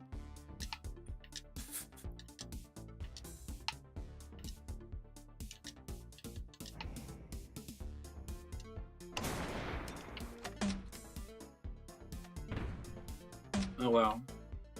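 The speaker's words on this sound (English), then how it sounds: "Grenade launch is pretty good, but man, does it give away your location." Rapid explosive gunfire and blasts from weapons, including a grenade launcher, in the split-screen shooter game Screencheat, dense and loud under music with a person talking over it.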